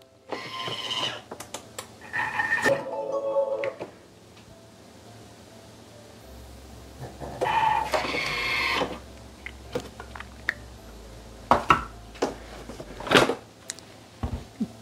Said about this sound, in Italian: azionare il bimby per 30 secondi a velocità 8